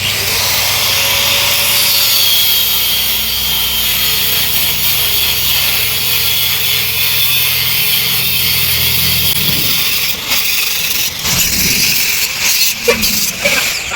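A saw grinds steadily through the casing of an electric scooter battery pack, a loud continuous rasping hiss that gives way near the end to scattered knocks and handling clatter.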